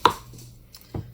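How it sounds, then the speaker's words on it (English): Two sharp knife chops strike a cutting board about a second apart while cutting vegetables, each a crisp close thud with a brief quiet stretch between them. "cutting some vegetables."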